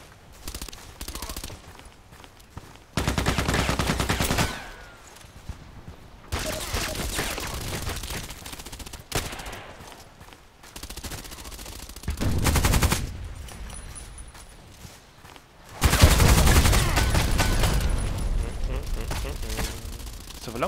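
Video game gunfire in Hitman, several loud sustained bursts of rapid shots separated by quieter stretches of ambient game sound, with no voice over them.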